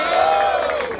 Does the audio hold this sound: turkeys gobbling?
no